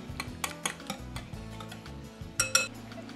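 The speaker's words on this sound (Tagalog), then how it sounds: "Sa paghalo ng itlog at gatas para sa suman, maaaring batihin ito ng mabilis." A whisk clicking rhythmically against a bowl while beating eggs and milk for leche suman, quick light ticks and clinks, fairly faint and close, with no talk.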